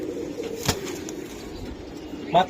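Giribaz pigeons at a Bangladeshi pigeon seller's stall coo softly, with a brief louder call near the end over a low background hum; a faint tap sounds early on.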